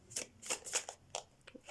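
A deck of thoughts and feelings cards is shuffled in a quick, faint run of about six papery riffling bursts, close by and with no talking.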